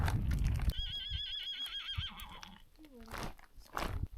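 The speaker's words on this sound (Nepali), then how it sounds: "घोडा कराको है" A horse on a Himalayan trek to Sandakphu and Phalut lets out a clear, wavering whinny lasting about two seconds, then a shorter lower snort, with hoof clip-clop, rustling and faint voices around it.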